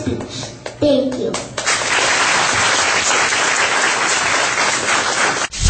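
An audience at a children's speaking event bursts into sustained applause after a young speaker finishes, with a voice briefly heard at the start before dense clapping fills the room.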